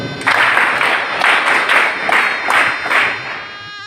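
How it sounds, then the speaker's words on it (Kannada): An audience claps to honour a donor at a charity event distributing notebooks, pens and uniforms to poor students, a loud burst of applause that swells in waves and then thins out. "ನಾವು ಅವರಿಗೆ ಚಪ್ಪಾಳೆ ತಟ್ಟುವ ಮೂಲಕ ಗೌರವಿಸೋಣ"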